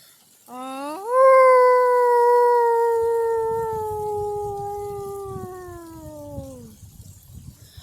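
A person imitates a wolf howl with one long, loud, sustained tone that rises sharply, holds and slowly falls over several seconds, while soft rustling sounds underneath toward the end.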